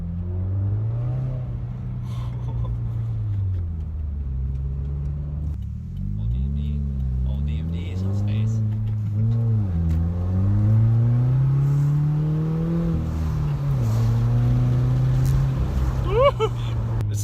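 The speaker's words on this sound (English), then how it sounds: "you could hear a little bit of a deep sound definitely when you're pulling around" A 2018 Subaru WRX with a Nameless cat-back exhaust driving on snowy roads, a deep droning exhaust rumble that rises and falls as the engine revs, with voices talking over it.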